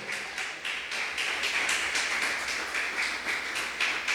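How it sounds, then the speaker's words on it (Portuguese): A church congregation claps together in a steady, rhythmic beat, the dense wash of many hands sustained throughout without a break. "Se você crê, aplauda ao Senhor"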